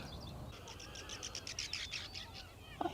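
Small bird calling near the coast at Kodiak, on Near Island, giving a quick run of faint, high chirps over a low outdoor background hum, with no voices.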